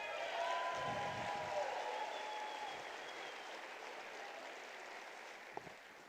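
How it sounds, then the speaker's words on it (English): Steady applause from an audience at a snowsports hall of fame awards celebration, moderately distant and sustained, slowly easing in loudness over several seconds. "Big round of applause"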